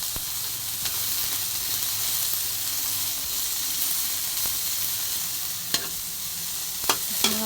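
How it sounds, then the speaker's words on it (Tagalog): Garlic sizzles and fries steadily in a small amount of oil in a pan, a continuous close hiss with a few brief clicks of a utensil near the end and no talking. "Lapit na masunog ang ating bawang."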